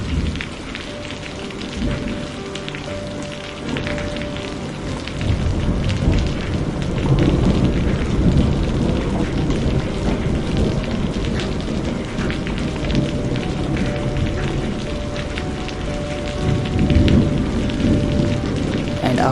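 Heavy monsoon rain pours steadily, a dense, loud hiss of drops hitting surfaces that swells slightly midway and continues without pause, with no voices.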